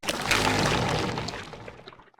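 A crumbling, shattering rush of debris-like crackles that starts loud and gradually trails off into scattered small clicks, the Creaking mob despawning in Minecraft.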